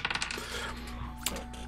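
A six-sided die dropped onto a desk gives a quick burst of hard clattering bounces and rattles at the start, then a short tap later, close and crisp with no talking.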